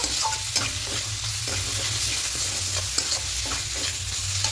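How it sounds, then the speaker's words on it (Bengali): Mushrooms stir-fried in a spicy masala sizzle continuously in a pan while a spoon scrapes and turns them in repeated strokes, close and clear, with no voices. "মাশরুমটা দিয়ে খুব ভালো করে কষিয়ে নেব"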